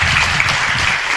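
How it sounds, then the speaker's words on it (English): Applause from a city council meeting audience welcoming a Toys for Tots volunteer, a dense steady wash of hands clapping throughout, fairly loud and with no talk over it. "Please give them a round of applause."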